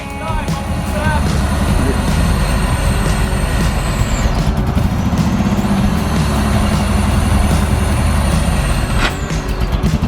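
A Pontiac Fiero kit car, revived after sitting abandoned for 15 years, runs loudly and steadily up close with a rough, heavy rumble and thin high whines drifting overhead, while voices talk over it.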